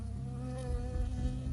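A bee in the Firewatch video game buzzes continuously and close by, a steady droning hum that swells slightly in the middle, with no voices.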